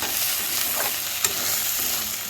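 Onions being stirred with salt, red chili and spices in a frying pan for soya chunk curry, a dense, continuous close sizzle with a couple of soft scraping knocks, no voices.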